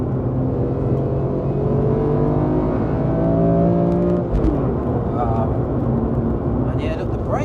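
A BMW M3 CSL engine drones loudly and evenly as the car drives, then a quick throttle blip swings the revs, with people talking over the engine noise.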